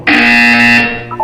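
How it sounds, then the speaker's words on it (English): A loud, steady electronic buzzer from the video game Portal 2 sounds alone for about a second, then fades to a few short tonal blips. "When you hear the buzzer, look up at the ceiling."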